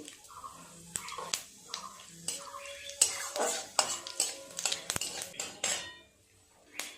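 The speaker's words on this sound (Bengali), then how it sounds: "ফোড়নটা নেড়ে চেড়ে ভেজে নিয়েছি" Bay leaves, dry red chilli and whole cumin sizzle in oil as a tempering for country chicken curry, mostly heard as clattering spoon and pan knocks during stirring over a faint fry.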